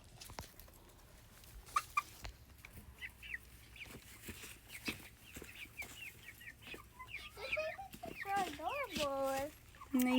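Chickens on a farm cluck and squawk close by, with scattered soft clucks giving way to louder, rising calls near the end, while a quiet voice talks among them.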